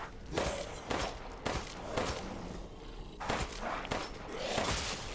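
Several sharp, booming video game explosions burst out in quick succession in Resident Evil Village, each with a rumbling tail, loud and close, with no talking.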